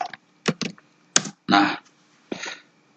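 Computer keyboard typing a web address, a few separate, close key clicks and presses spaced across a few seconds in a quiet room.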